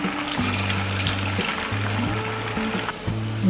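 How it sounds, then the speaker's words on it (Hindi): Poha aloo cutlets (tikkis) fry in hot oil in a kadhai over a medium flame, giving a steady close sizzle and hiss beneath soft background music notes. "हमने कढ़ाई में तेल गरम कर लिया है। अब हम ये टिक्कीज फ्राई करेंगे।"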